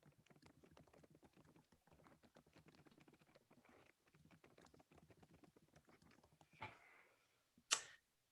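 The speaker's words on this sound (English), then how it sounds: "I hear typing, so I'll be patient." Soft, rapid clicking of typing on a computer keyboard, a steady patter of keystrokes heard faint and distant, ending with a couple of louder knocks.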